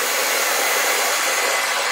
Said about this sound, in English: particularly if you take the hairdryer then and dry it